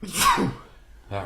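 A single sharp human sneeze bursts out close and loud, followed by a brief quiet and a short spoken word.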